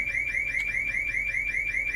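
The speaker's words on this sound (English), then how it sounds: "I don't know what that alarm is, but something's going on." An electronic alarm sounds steadily and alone, a repeating warbling tone pulsing in quick, even cycles at constant loudness.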